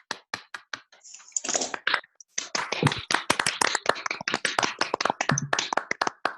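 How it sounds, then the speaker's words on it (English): Scattered clapping from participants unmuted together on an online coaching webinar call, uneven bursts of claps from several people arriving through different microphones, brief and close. "give Luba a round of applause, please"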